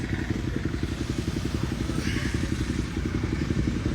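A superbike engine roars close by at a checkpoint with a steady rumbling, continuous throughout, with no talking.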